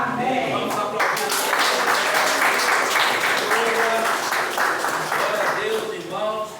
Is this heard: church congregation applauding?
yes